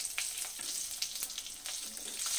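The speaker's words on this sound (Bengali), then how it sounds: "ওই তেলের মধ্যে আমি কালো জিরে আর কাঁচা লঙ্কা ফোড়নে দিয়ে দিচ্ছি।" Black cumin and green chillies tempering in leftover hot oil after frying fish, a steady close crackling sizzle with occasional sharper pops, heard alone without talk.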